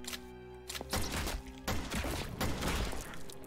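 Several loud, sharp pistol shots crack in quick succession, each followed by a short burst of noise, with a low hum between, in a retro survival horror video game.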